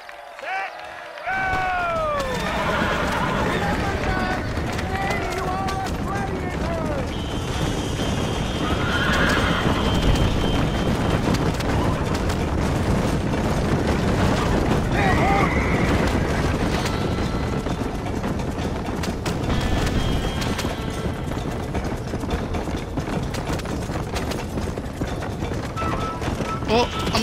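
Horse-drawn carriage race in Red Dead Redemption: horses whinny and neigh near the start, then galloping hooves clip-clop continuously with wheels rumbling and a crowd-like wash behind, loud and sustained under occasional talk.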